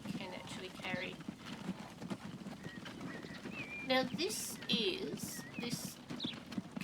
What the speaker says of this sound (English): covered wagon pulled by 2 horses is top of the line technology for 1853